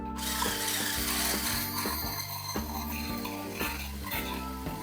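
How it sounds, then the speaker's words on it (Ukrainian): Egg yolks and oil whisked together in a bowl, a steady close rhythm of repeated beating strokes against the bowl under a continuous hum. "сюди до наших жовтків додати олію. Це все гарнесенько нам треба збити."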